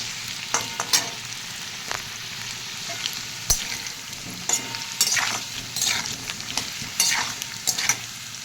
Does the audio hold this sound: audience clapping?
no